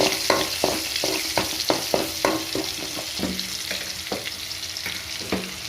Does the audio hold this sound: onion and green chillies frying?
yes